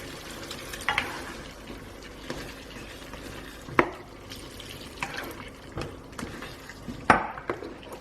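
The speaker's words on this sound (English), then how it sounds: "So I'm going to add a bit more water, about 1 cup." Water is poured into a pot of chicken and potato curry, with a soft continuous pour and simmer punctuated by several sharp clinks of a spoon or utensil against the pot, close and moderately loud.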